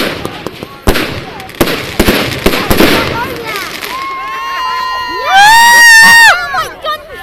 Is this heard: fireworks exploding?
yes